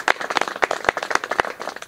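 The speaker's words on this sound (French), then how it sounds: "Ça mérite des acclamations" Audience clapping in applause after a hymn at a church gathering, dense and continuous, moderately close, lasting a couple of seconds.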